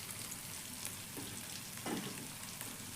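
Ground raw fennel seeds frying in a pan of oil, a soft steady sizzle with a few faint stirring scrapes, quiet and close.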